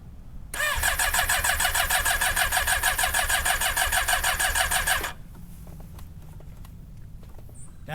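A car engine cranks steadily for about five seconds on a weakening lithium-ion restart battery in 12-degree cold, a loud rapid chugging that fails to catch and then cuts off to near silence.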